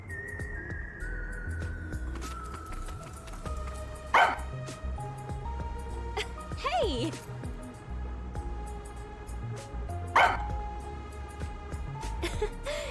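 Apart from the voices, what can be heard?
dog barking in the video game Rain Code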